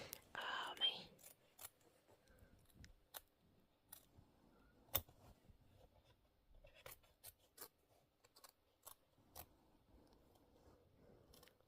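Scissors trim a fabric quilt block in a quiet room, with a quick burst of snips at the start followed by sparse, crisp single cuts and soft rustling of cloth.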